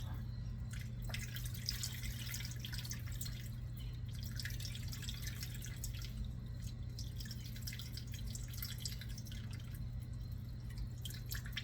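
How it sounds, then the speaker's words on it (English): Bone broth drips faintly through a towel being squeezed to strain it, a scatter of soft, irregular drops over a steady low hum. "I want to get the rest of this liquid out."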